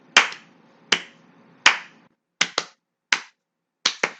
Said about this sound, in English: Now double claps.